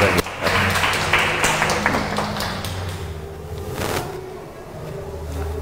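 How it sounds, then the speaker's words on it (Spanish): Applause from a crowd fills the room at a talk on the history of political parties, steady clapping that gradually thins and fades toward the end. "un fuerte aplauso"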